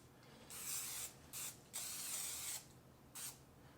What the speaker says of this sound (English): give it a coat of a little bit of Pam cooking spray first